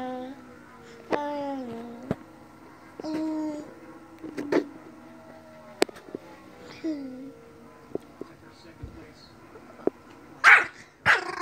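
A puppy barks and yelps repeatedly nearby, with whiny, rising calls and short growly barks spaced irregularly in a quiet room.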